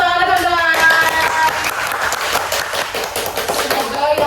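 An audience at a podcast recording claps in a loose, continuous patter of applause lasting several seconds. The clapping is mixed with light background chatter and stays fairly close and even in volume.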